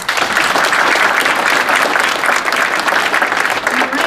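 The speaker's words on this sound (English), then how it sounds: "So let's give one more round of applause to all of our new colleagues." Audience applause at a college service day welcoming new staff: a dense, steady round of clapping from a crowd, loud and sustained for several seconds with no break.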